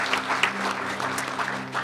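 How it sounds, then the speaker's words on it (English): Brief applause from a convention panel audience at a Metal Gear game event, a short burst of steady clapping from a crowd in a hall. "Can we have a round of applause for this part of the panel?"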